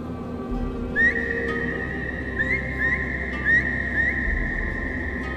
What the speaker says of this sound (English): Why is all my buttons the whistle?